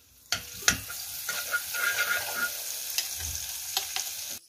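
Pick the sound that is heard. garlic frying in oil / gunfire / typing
garlic frying in oil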